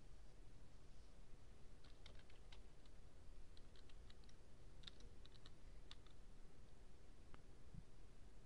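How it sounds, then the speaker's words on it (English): Keys clack on a computer keyboard in irregular bursts of quick, light taps over a steady background hiss, close by and without any voices. "Let's type in a few statements to see what the Mathscript node can do."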